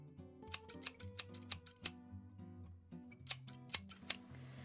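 Scissors snip through corset mock-up fabric pieces for a bespoke 1890s Victorian corset: a quick run of six sharp close cuts, a pause, then three more, with faint background music beneath.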